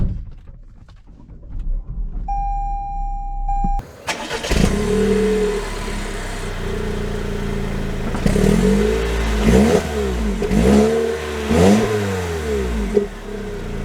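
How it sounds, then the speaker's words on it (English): A 2022 Toyota Corolla Cross XLE AWD sits quiet while a short chime sounds. Then the engine starts and settles into a steady hum before pulling away, with repeated rising surges as it accelerates through the gears. "Let's see how it drives."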